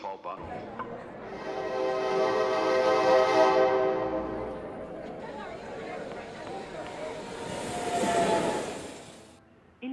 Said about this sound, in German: da kommt eine S-Bahn.